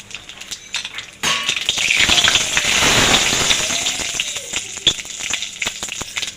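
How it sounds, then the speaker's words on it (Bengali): Black cumin seeds drop into hot mustard oil and set off a sudden, loud crackling sizzle that surges, then slowly settles, with a few sharp pops and light clinks of a utensil. "বড়ি ভাজা গরম তেলের মধ্যে দিয়ে দেবো কালো জিরে ফোড়ন"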